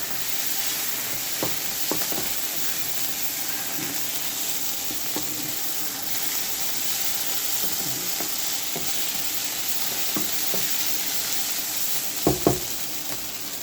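Chicken in a creamy sauce sizzles steadily in a pan as it is stirred, with a few sharper clinks of the spoon near the end and no voices.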